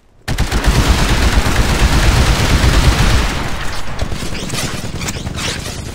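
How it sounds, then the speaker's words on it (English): An anti-Titan weapon fires in the Titanfall video game, a loud, dense burst of rapid blasts and impacts that roars continuously for several seconds and then eases into a lighter rattling tail. "Destroy the Titan with your anti-Titan weapon."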